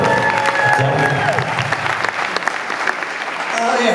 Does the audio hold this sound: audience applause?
yes